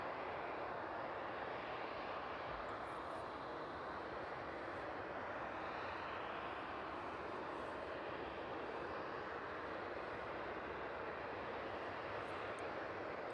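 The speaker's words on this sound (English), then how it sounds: "DHL 757 touching down in from Reykjavik" A DHL Boeing 757 cargo jet touching down at night at East Midlands Airport, a broad, steady roar of engine and rushing air that holds level throughout, heard from a distance with no voices.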